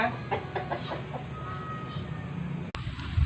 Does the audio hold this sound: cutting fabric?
no